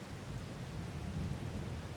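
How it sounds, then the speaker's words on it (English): Rain and thunder in the Farming Simulator 22 video game: a steady wash of rainfall over a deep, continuous low rumble, even and unbroken throughout with no voices. "wait out the rain"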